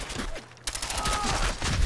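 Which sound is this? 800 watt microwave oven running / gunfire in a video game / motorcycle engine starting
gunfire in a video game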